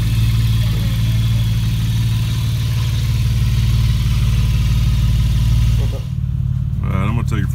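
A right-hand-drive 1993 Nissan 300ZX twin turbo with a cold air intake idles loud and close, a deep steady rumble with faint hiss above, before the engine note dips and settles near the end.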